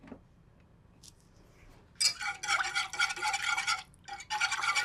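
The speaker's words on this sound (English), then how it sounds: "give it a quick whisk" A whisk scrapes briskly through thick meat drippings in a heating pan. It starts after a quiet moment and runs in steady, rapid, close-up strokes, broken by one short pause.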